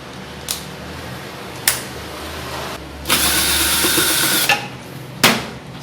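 Socket wrench loosening bolts on an Electrolux washing machine during a lower bearing replacement: a few sharp metallic clicks and a longer ratcheting burst in the middle, close and fairly loud, with no talk.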